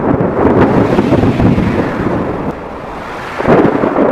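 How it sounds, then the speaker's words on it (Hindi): Cartoon sound effect of a thunderstorm with heavy rain: a loud, continuous rumbling roar with rolling thunder swells and a brief lull before building again, with no voices. "बारिश है बारिश, आसमान बरस रहा है"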